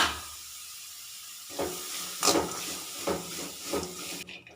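Cabbage and capsicum stir-frying in a pan for egg fried rice, a steady close sizzle with several scraping stirs and brief louder hisses, no talking.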